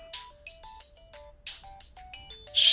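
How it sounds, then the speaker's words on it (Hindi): A phone ringtone plays a bright, repeating electronic melody of short stepped notes, moderately loud and close, with a brief louder burst at the end and no one speaking over it. "किसका फोन आ रहा है यार?"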